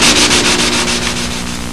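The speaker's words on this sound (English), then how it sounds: "as soon as you're done sanding out that, are you sanding out with 320, the whole thing?" Steady rhythmic sanding of model aircraft parts with 320-grit sandpaper, loud and close, with quick regular back-and-forth strokes and no talk.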